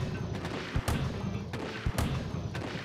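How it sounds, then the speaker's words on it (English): In a Splatoon boss fight, two loud booming cannon blasts of ink go off about a second apart, each a hard, punchy hit over a steady bed of rumbling game noise. "Ink cannon! Kill him!"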